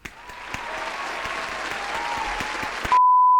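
A crowd at a marathon claps and cheers in steady, dense applause that swells slightly before cutting off, followed by an electronic beep tone.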